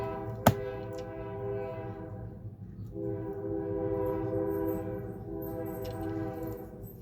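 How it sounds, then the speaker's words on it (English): A train rumbles past steadily with a sustained, multi-tone horn blaring over it, close and loud, preceded by a sharp click. "there's a train going by"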